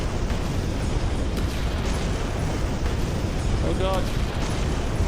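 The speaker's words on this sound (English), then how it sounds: "The Knack Node is doing a bombing run!" A bombing run in Palworld sets off a continuous barrage of loud, rumbling explosions, dense and unbroken, while a voice briefly exclaims over the blasts.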